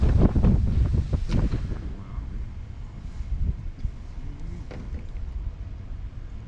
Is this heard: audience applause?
no